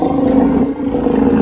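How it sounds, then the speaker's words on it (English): A Steller sea lion gives a deep, bear-like roar, one loud, rough, growling call held close to the microphone for just over a second. "Some sea lions, like the Steller sea lion, even sound like bears."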